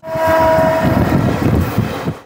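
A train horn sounds at the start, then a loud rolling rumble of heavy rail cars arriving close by at Rampurhat Junction station, slowly fading at the end.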